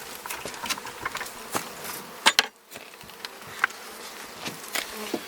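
Honeybees swarm around an open hive during a July apiary inspection, their dense buzzing close and continuous, punctuated by loud individual bees zipping past and a few knocks from the wooden frames being handled.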